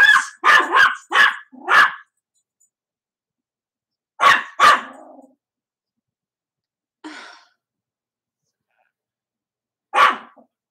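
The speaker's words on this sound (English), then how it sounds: "This dog lets me know when anybody or anything is within a 5-yard radius of ours" A dog barks loudly and close by: a quick burst of four barks, then two more after a pause, then a softer one and a final single bark, separated by silence.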